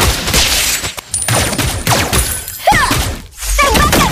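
Layla's golden bullet shots in Mobile Legends ring out as a sharp, shattering barrage, loud bursts crackling over dense game music and effects, with a brief lull partway through.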